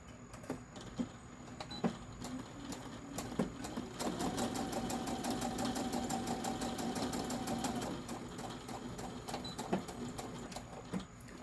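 A sewing machine stitches fabric seams, running in a steady mechanical whir for several seconds in the middle. Before and after come scattered clicks and short bursts of stitching, close and quiet with no talking.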